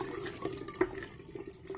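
Plain tap water runs from a faucet, a steady close trickle and splash with a few sharper drips and gurgles over a continuous hiss, without voices.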